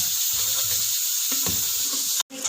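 Mutton pieces with added yogurt sizzle steadily as they are fried for a Mutton Siri dish, a close, continuous hiss with a brief dropout near the end.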